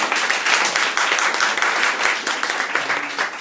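An audience at a charity meetup panel claps together, a steady, fairly loud patter of many hands lasting a few seconds with no talking over it.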